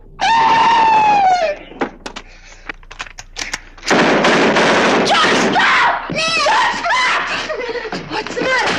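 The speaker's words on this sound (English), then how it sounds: "Someone was screaming." A woman screams in a 1958 crime film, several loud, piercing wails in close succession, mixed with shouting voices, laughter and sharp bursts like gunfire.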